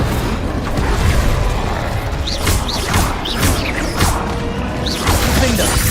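Confringo explosive spell blasts in Hogwarts Legacy, several loud booming impacts with crackling debris spread across a busy combat soundscape.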